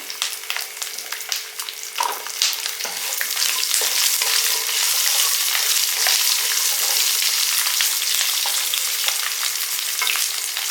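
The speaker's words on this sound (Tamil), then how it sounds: "வெள்ளைப்பூடு கொஞ்சம் வதங்கட்டும்" Garlic fries in hot oil with a loud, steady, close sizzle, plus occasional scraping stirs near the start. No one speaks.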